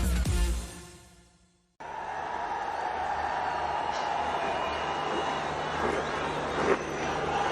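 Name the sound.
cricket stadium crowd at T20 match in Lahore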